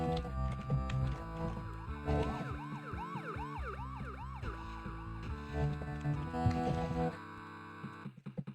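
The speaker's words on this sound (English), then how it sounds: "Why is the making a police car siren sound when there's no sirens whatsoever on the car?" A wailing police car siren in a plug-and-play video game rises and falls in rapid repeated sweeps over busy electronic game music, fairly loud, then drops away abruptly.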